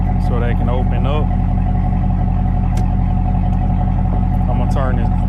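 A car engine idles with a steady low hum inside the vehicle, while a nearby voice speaks in short bursts over it.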